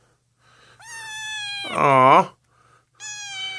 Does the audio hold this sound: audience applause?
no